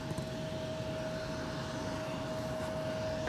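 A Canadair CRJ regional jet at Minneapolis–St. Paul Airport gives off a steady, broad engine roar with a thin sustained whine, holding even throughout with no voices.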